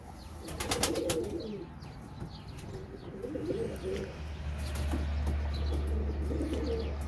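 Pigeons in a large coop coo in low, repeated rolling calls from several birds, with brief wing flutters and faint chirps over a steady low hum.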